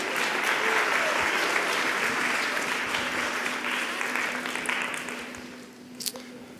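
An audience at a speech night event applauds a volunteer joining the stage, a dense, sustained round of clapping that gradually fades away over several seconds.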